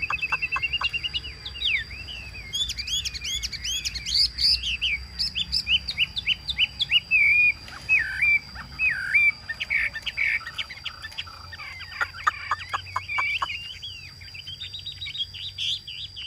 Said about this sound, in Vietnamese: trời nó rất là nóng nên là chim nó vừa hót vừa há mồm này thôi